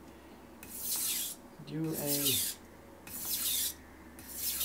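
A knife blade scrapes across a Shapton Pro whetstone in steady back-and-forth strokes, a rasping hiss repeated about four times with short pauses, close and clear, and a brief voiced sound in the middle.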